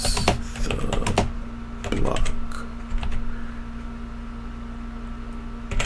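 Fast clacking on a computer keyboard, an uneven burst of keystrokes close by over a steady electrical hum, with occasional faint movement around it.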